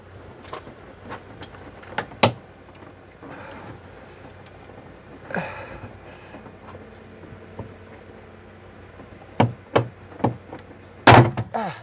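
Interior trim panels being pried off a Tesla Model Y Juniper, with sharp plastic clicks and knocks scattered through a low handling rumble, bunching into several snaps near the end.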